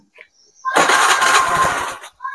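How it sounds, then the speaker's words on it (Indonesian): After a few faint clicks, a Honda Beat FI motorcycle engine, which has trouble starting and stalls, sputters to life and runs loudly for over a second before cutting off. "Tapi kita akan coba nyalakan motornya."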